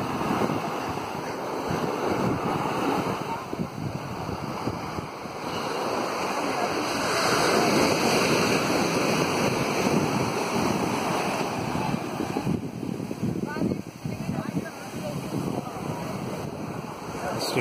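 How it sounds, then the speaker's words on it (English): Ocean waves rolling onto Cherai Beach in Kerala, a steady wash of surf with wind buffeting the microphone throughout. "Beach in Kerala."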